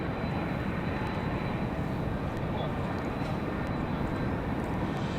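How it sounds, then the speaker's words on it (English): Airbus A320 airliner engines at Raleigh Durham airport, a steady, broad roar held at constant loudness throughout, with a voice talking over it. "See how this A320 handles the wind."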